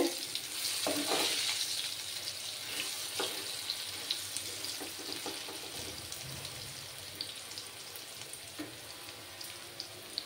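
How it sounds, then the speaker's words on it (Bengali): New potatoes frying in oil in a pan for a Bengali-style mutton curry, a loud, dense close sizzle with stirring clatter, strongest at the start and settling into a steady hiss. "এগুলো নতুন আলু, বেশিক্ষণ সময় লাগবে না ফ্রাই হতে।"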